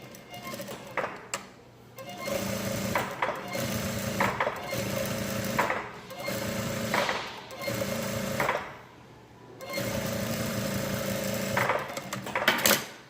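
A sewing machine topstitches a blouse seam in several bursts of rapid, steady mechanical whirring, each lasting a second or more and separated by short pauses, with soft handling clicks in between, heard up close.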